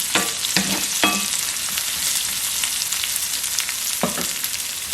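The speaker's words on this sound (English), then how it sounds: "So I'm gonna fry both of them here right now." Raisins and carrots frying in a pan, a steady close sizzle with occasional clinks of stirring, loud and continuous with no voices.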